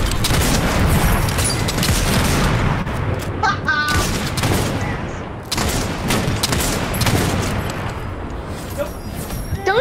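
Fortnite gunfire and sniper shots ring out in loud, dense, nearly unbroken bursts, with repeated cracks and booms throughout.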